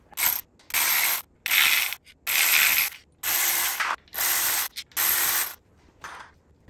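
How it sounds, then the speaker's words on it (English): A power tool with a long extension runs bolts off a Porsche Boxster 986 engine during teardown: seven loud whirring bursts of about half a second each, separated by short pauses, close and without talk. "with a long extension, I can reach over here with some power tools"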